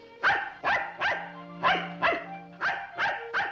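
A single dog barks in a steady run of about eight loud, close woofs with short even pauses between them, clear and alone.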